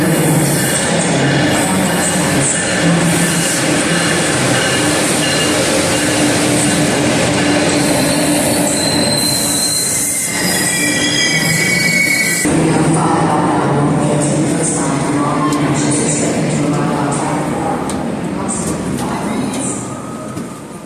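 Raritan Valley Line train pulling into Lebanon station, a steady loud rumble of wheels and cars on rail with metallic squeals and clatter throughout, no talk.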